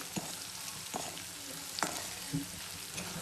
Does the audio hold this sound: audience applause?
no